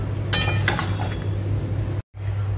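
Potato and paneer curry being stirred in a pot, with clinks and scrapes of a utensil against metal over a steady low hum, the stirring fairly close and continuous before a brief dropout.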